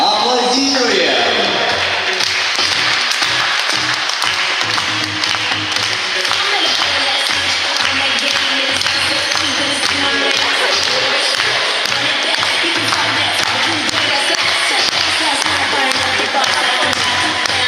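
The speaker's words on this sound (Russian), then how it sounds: "Аплодируем." An audience at a dolphinarium show in Dzhubga on the Black Sea claps together, a dense run of quick hand claps and thumps that carries on throughout, with a voice talking over it.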